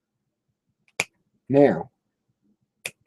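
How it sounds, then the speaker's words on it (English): Two sharp finger snaps ring out in a quiet room, about two seconds apart, with a single short spoken word between them. "I snap my fingers sometimes"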